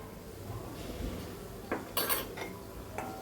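A spoon clinks and scrapes against a pan while chili powder and turmeric are stirred into oil, with a few brief metallic taps over a low steady background hum.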